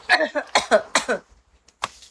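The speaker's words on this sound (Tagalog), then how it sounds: "May ubo lang kasi ko" A woman coughs in a quick burst of several rough, close hacks in a row, pauses, then lets out one more short cough.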